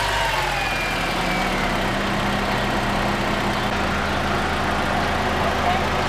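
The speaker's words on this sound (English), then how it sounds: "let me start the engine and turn the steering" An Acura TSX with a suspected rack and pinion fault idles in a steady low rumble, its engine running continuously at close range, with faint whining tones and voices in the background.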